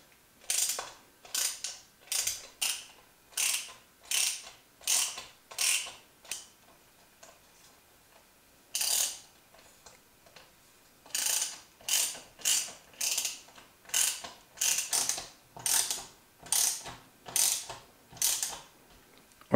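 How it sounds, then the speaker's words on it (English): Self-tapping screws are driven by hand into a dirt bike radiator fan mount, producing rapid bursts of ratcheting clicks in a regular rhythm with brief pauses, close and fairly loud. "They are self-tapping, so it's a little bit harder to put them in the first time."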